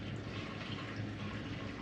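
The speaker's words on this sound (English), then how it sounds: "I'm going to put about 4 cups of water" Water poured into a rice cooker pot makes a steady, close splashing rush, unbroken and fairly soft, with no talk.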